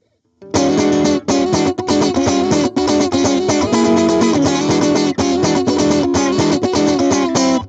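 Loud electric guitar through a JHS gain pedal plays a gritty, distorted riff with short breaks between chords.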